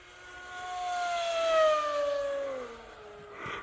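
A 130% scale 3D printed RC Komet model aircraft streaks past at high speed, its motor whine loud and rising then falling in pitch with a clear Doppler sweep as it passes close and pulls away.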